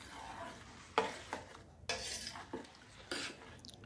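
A raw mango panha mixture stirred in a pot, a spoon clinking and scraping against the metal in several distinct strokes, fairly quiet and close, with no voices.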